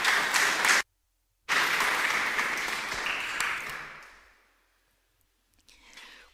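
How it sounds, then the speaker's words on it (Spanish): A church congregation breaks into loud applause, cut off by a sudden gap of silence, then resumes steadily and fades out, with a faint burst of clapping at the end. "Dale un aplauso al Señor."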